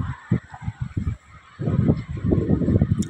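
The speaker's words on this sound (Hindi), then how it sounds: "परिंदे भी चहचहा रहे हैं" Birds call outdoors in rainy weather, a rapid run of loud, honking bursts up close that pause briefly and then return as a denser, continuous stretch of calling.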